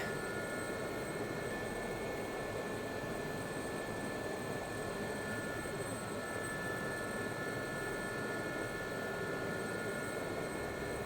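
An SA342 Gazelle helicopter taxiing in the DCS flight simulator, its turbine whine and rotor drone running steady and loud with a constant high-pitched tone on top and no talking.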